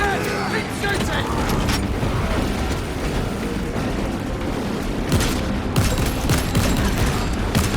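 Dense, continuous gunfire from Warhammer 40,000: Space Marine 2 in heavy combat, with bursts and booming impacts piling up, loud and close, under shouted voices.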